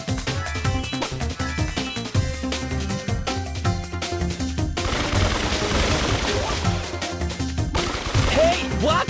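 Rapid gunfire bursts and shot impacts crackle in quick succession from a Brawl Stars video game match, layered over busy game music.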